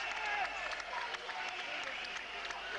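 A boxing arena crowd cheering a middleweight winner after a knockout, a broad continuous roar of voices and scattered applause heard from a distance, with commentary talking over it.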